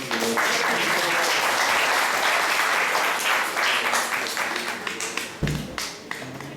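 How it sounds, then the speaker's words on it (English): A congregation at a Sunday class in an ISKCON temple in Atlanta breaks into a sustained round of applause for a devotee, dense and steady clapping that thins out slightly toward the end. "let's give a round of applause for this wonderful devotee"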